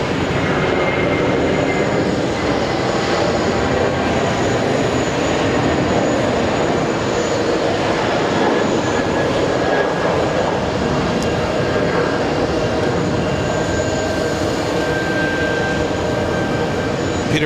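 Aer Lingus Airbus A330-300 taking off from runway 4 left at JFK, a loud, steady broadband engine roar with a faint whine held across the whole stretch, heard from a distance without any voices.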